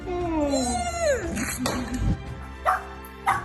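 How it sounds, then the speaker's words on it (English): A dog reunited with its owner after months apart whimpers and cries in high, wavering whines that slide up and down, broken by a few sharp yelps near the end, close to the microphone. "this dog skipped the barking and went straight to crying when he was finally reunited"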